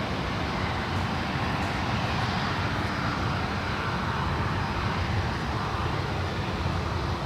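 Airplane at San Francisco International Airport, a constant heavy broadband engine roar filling the whole stretch, loud and unbroken, with no voices.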